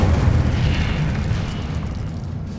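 An Incendio fire spell in Hogwarts Legacy erupts in a deep, roaring burst that dies down over a couple of seconds.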